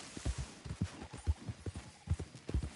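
Horse hooves clip-clopping in a steady trotting rhythm in the video game Red Dead Redemption 2, crisp rounded thuds repeating close by for under three seconds with nothing else over them.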